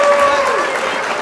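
Clapping and cheering at home for a husband after a game of hide and seek, a short steady burst with a voice talking over it.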